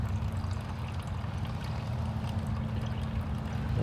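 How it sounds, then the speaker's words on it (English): Cold water pours from a water bottle into cowboy coffee outdoors, a steady, soft splashing stream that runs evenly for several seconds under a low background hum. "We're going to add in some water right from our water bottle, filter, whatever, that is not hot"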